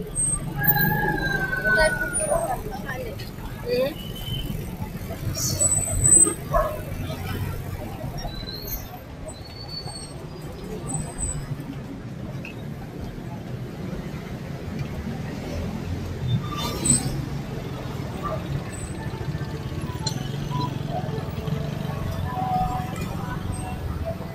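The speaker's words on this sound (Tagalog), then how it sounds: "Traffic na rito." Steady street traffic noise in Pateros, Philippines, a continuous rumble of passing vehicles with a faint siren somewhere in the mix. A voice talks over it.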